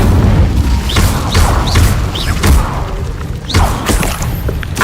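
Fire spell cast in Hogwarts Legacy, loud booming bursts with rising whooshes repeating about every half second over a rumbling low din, with no voice.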